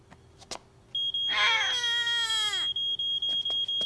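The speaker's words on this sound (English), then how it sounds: "First, let's listen to the alarm again to recognize it." Cartoon fire alarm going off indoors, a piercing electronic tone that starts abruptly and pulses in regular beeps, with a brief wailing child-like cry layered over its opening; loud and close.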